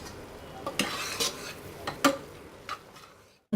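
Dal makhani is served out of the cooking pot, with several scattered spoon-on-metal clinks and scrapes against a quiet kitchen background.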